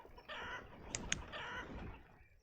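Chickens in a farm pasture in the city-building video game Banished, a few short, faint clucks with soft game ambience around them.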